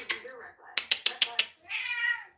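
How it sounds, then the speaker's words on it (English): A pet cat lets out a short, irritated meow, then a quick run of sharp clicking taps, then a long, drawn-out complaining yowl, all close and fairly quiet. "You hear my cat getting mad? You hear my cat talking saucy to me?"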